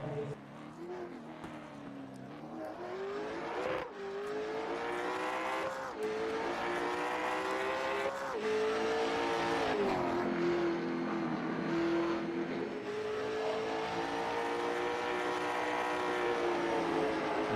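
A DC Designs LMSC series race car lapping at Kern, its engine droning steadily with rising and falling pitch as it shifts and works around the track, loud and continuous with a faint commentator voice underneath.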